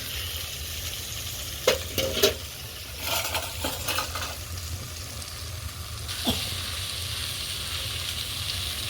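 Food frying in a pan on a wood stove being stirred, a steady sizzle and hiss with a few scraping clinks of a spoon against the pan scattered through.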